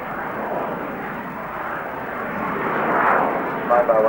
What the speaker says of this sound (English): This is, again, a visually very impressive phase of the Sukhoi 27 flight envelope.